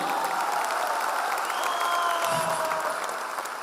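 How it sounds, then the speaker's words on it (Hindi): A burst of crowd clapping for a speaker at a large company convention, steady and moderately loud, fading slightly toward the end, with a faint whistling tone running beneath. "जबरदस्त ताली।"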